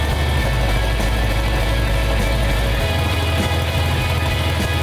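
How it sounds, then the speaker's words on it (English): A Plymouth 'Cuda with a 383 V8 runs on its own power for the first time since 1975, a loud, steady rumble with a deep low throb that shifts pitch partway through. "It was really good to hear the engine run."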